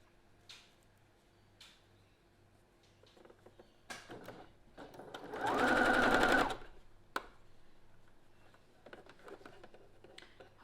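A sewing machine stitches denim quilt pieces in one loud, close burst of about two seconds. Quiet handling and light taps of the fabric come before and after the burst.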